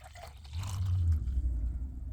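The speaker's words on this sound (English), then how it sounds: "Pour the powder directly in the water bottle and then shake to mix" Orange sugar-free drink powder shaken inside a 16.9-ounce plastic water bottle, giving a close, steady sloshing rumble of liquid that builds after a moment and continues to the end.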